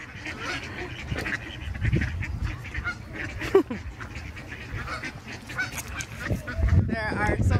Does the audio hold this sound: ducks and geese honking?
yes